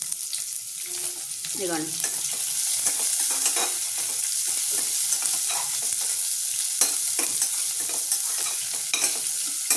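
Chopped onions sizzle steadily in a pan of cooked masala while a spoon stirs and scrapes through them, a continuous frying hiss with clinks, and someone speaks briefly over it near the start.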